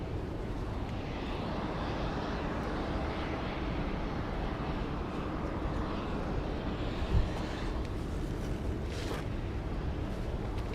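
United airliner taking off from runway 34 left at Sydney Airport, heard as a continuous low engine roar, distant and steady over the full stretch.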